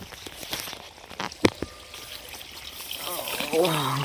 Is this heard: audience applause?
no